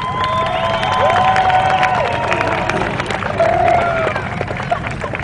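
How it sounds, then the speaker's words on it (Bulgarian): Audience at a drift show applauding and cheering before the start, a dense, loud, steady wash of clapping and crowd noise with a few shouted voices rising above it. "Искам да чуя вашите аплодисменти преди да стартираме"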